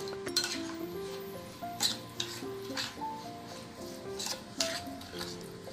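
Semolina, yogurt and water batter for vegetable idli stirred in a metal bowl, a steady run of scraping and clinking spoon strikes against the pot, close and moderately loud with no talking.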